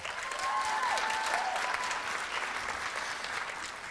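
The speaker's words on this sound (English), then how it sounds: "Give yourselves a round of applause." Students fill an auditorium with steady, dense applause after a Latin jazz performance lecture at the Kennedy Center, the clapping sustained and even throughout with no voices over it.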